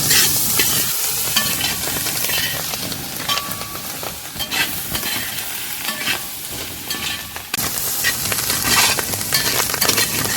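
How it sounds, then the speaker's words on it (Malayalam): Cooked clam meat stir-frying in hot oil for a clam fry, with a steady loud sizzle and repeated scraping and stirring clinks of a spatula in the pan throughout. "കക്കയിറച്ചിയുടെ വെള്ളമെല്ലാം ഒന്ന് വലിഞ്ഞ് നല്ലപോലെ ഫ്രൈഡായിട്ട് വരണം"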